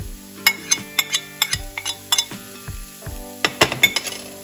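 Ginger sizzling in a frying pan for an omelette, with soft steady frying under a series of sharp clinks and scrapes of a utensil against the pan, close and fairly quiet.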